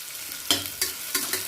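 Onions frying in hot oil after mustard seeds for a cauliflower, potato and fresh pea kurma, a close steady sizzle broken by three regular scraping stirs of a spoon in the pan, with no talking.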